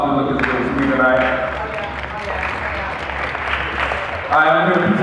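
Audience applause fills a music awards show hall, a steady wash of clapping and crowd noise with voices and some music mixed underneath throughout.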